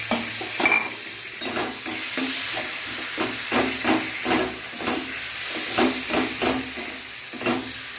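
Potato, tomato and eggplant sizzle and hiss in a hot pan for a mashed eggplant and potato dish, with rhythmic scraping stir strokes repeating close by over the steady frying. No one speaks.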